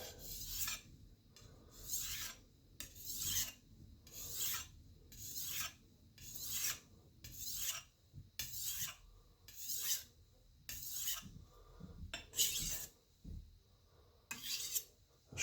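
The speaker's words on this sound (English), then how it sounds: "You can see little pieces of the burr ripping off on the stone now." Chef's knife being sharpened on a stone as the burr rips off, a series of about a dozen rhythmic rasping strokes with short pauses between them, close and clear with no talk.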